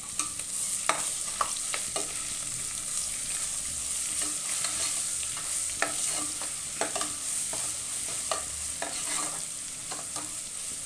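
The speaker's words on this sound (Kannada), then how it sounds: "ನಾವು ಎಣ್ಣೆನಲ್ಲೇ ಬೇಯಿಸ್ಕೊಳ್ಳೋಣ ಈ ಟೈಮಲ್ಲಿ ಶುಂಠಿ ಬೆಳ್ಳುಳ್ಳಿ ಪೇಸ್ಟ್ ಹಾಕ್ತೀನಿ ನಾನು ನೋಡಿ" Ginger garlic paste frying in hot oil for dal khichdi, a steady soft sizzle broken by repeated sharp clicks of a spoon stirring against the pan.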